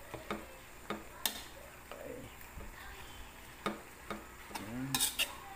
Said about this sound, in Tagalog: Yan, halu-haluin lang.